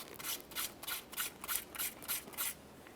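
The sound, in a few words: fine sandpaper sanding a Kia Forte steering knuckle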